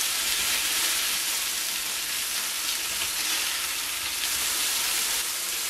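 Chicken pieces coated in cornstarch frying in oil in a pan, a steady loud hiss and sizzle that holds evenly throughout with no talking.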